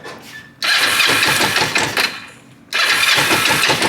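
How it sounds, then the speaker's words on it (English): A motorcycle engine started with the choke on catches and roars loudly, dips briefly, then surges back to a rough, busy running note, close by. "I think I'll start it. I'll let it run with the choke."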